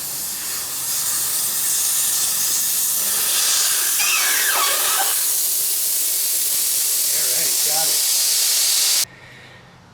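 Air rushes out of a Honda VTX 1300R front tire valve stem with the core removed, a loud steady hiss lasting about nine seconds before cutting off abruptly, with someone talking briefly over it.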